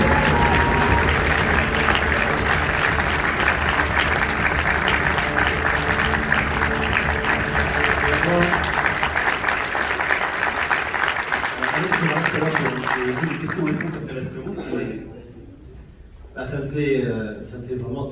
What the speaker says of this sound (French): applaudissez-le très